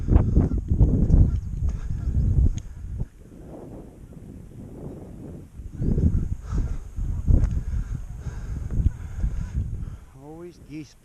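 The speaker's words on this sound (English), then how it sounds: "Always geese back here. There was always geese back here." Geese honk repeatedly nearby in a swamp amid wind buffeting the microphone, with bursts of honking and a voice speaking briefly near the end.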